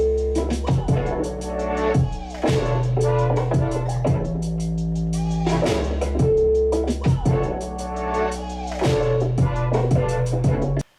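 A song's drop blares loud and dense, built on a thick, heavy 808 bass pattern under a punchy horn sample, with a repeating rhythmic phrase that cuts off abruptly at the end.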